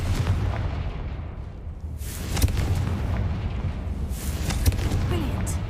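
Repeated Confringo fire spells in the Hogwarts Legacy video game erupt as deep booming blasts, a heavy rumble that swells into two or three loud bursts with crackling tails.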